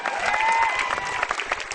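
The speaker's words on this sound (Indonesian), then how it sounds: "tepuk tangan sekali lagi" Live audience applause for a stand-up comedian at a comedy show, a dense burst of clapping with some crowd cheering, steady and loud for under two seconds.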